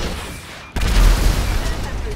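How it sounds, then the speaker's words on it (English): A vehicle explosion in a video game erupts suddenly after a quieter stretch: a loud boom with a crackling, rumbling burst that lingers and decays over the following seconds. "Citizens reporting a vehicle explosion on South Rockford Drive"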